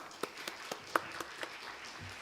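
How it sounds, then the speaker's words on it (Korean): A handful of separate claps, some louder than others, come from a church youth retreat crowd. The sparse, fairly quiet strikes are spaced at uneven intervals, with a soft low murmur at the end. "다시 한번 박수 부탁합니다"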